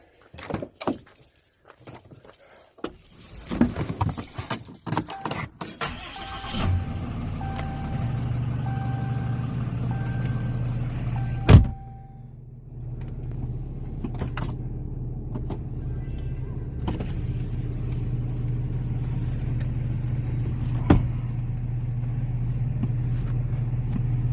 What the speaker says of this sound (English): get the truck pulled in here